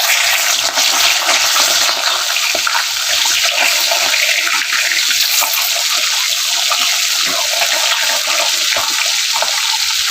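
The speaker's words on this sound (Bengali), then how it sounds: "তেল গরম হয়ে গেছে, মাছগুলো দিয়ে দিলাম।" Fish fry in hot oil in a pan for a Bengali home-cooked meal, a loud, continuous hissing sizzle with crackling pops throughout, close up and unbroken by talk.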